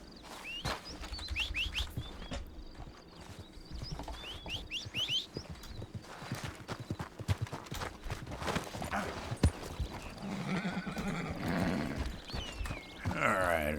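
A horse's hooves clip-clop in a steady, unhurried rhythm, with birds chirping in the background.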